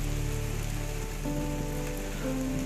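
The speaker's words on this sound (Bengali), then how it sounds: "শুরু হলো বৃষ্টি।" Rain falls steadily on a hill homestay near Balasun and Sukhiapokhri in North Bengal, making a soft, even hiss with faint humming tones beneath it and no talk.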